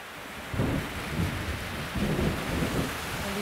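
Steady heavy rain hisses throughout while low rumbles of thunder roll in and swell twice, fairly loud and close, with no talking.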